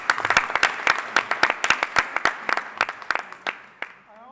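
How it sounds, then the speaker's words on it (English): An audience at the Do Good Challenge finals claps in a loud, steady burst of applause, sharp individual claps standing out near the front before the clapping thins and stops. "Let's have a round of applause for Free Photography"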